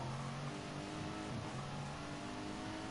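A BMW GT3 race car in Gran Turismo Sport drives around Bathurst with a steady, droning engine tone and tire noise, held at a constant, fairly quiet level throughout.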